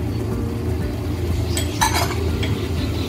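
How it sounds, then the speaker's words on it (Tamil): A spoon stirs chopped tomatoes and vegetables for aviyal in a pan, scraping softly over a low steady cooking hiss, with a brief clink of utensil against metal near the middle. "சேர்த்து நல்லா கிண்டி விட்டுருவோம்"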